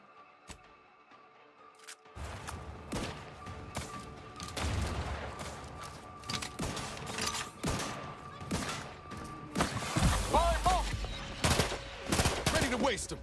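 Rapid bursts of SMG fire from a burst-fire submachine gun in the sci-fi shooter Outer Worlds 2, loud and close, repeating in clustered volleys over a dense bed of game combat noise.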